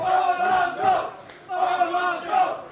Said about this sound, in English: The crowd here in London, vocal in their support of the Dutchman.